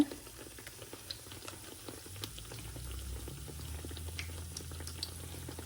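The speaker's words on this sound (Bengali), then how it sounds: "এই যে ভাজা চলছে" Battered eggplant slices for beguni fry in oil, a faint, steady bubbling with scattered small pops and spits and no talking.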